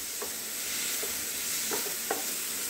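Chopped tomatoes with salt cooking in a pan for a quick paneer sabzi: a steady soft sizzle with a few light scraping stirs, fairly quiet and close, and no talking.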